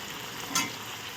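Red potato slices fry in hot oil with a steady, close sizzle and one brief louder crackle midway. No voices are heard.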